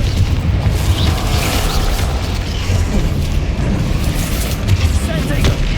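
In Hogwarts Legacy, the Confringo spell sets off a dense, booming fiery blast that rumbles and crackles continuously through the game's combat, loud and close.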